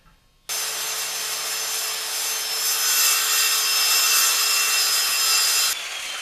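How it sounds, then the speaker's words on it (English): A hand saw cuts through pallet wood along a scribed guide line in steady, continuous strokes, the rasping loud and close and running alone almost the whole time. "I made a straight scribe line here so I can index with this part of the saw, and that should make this cut much more nearly straight"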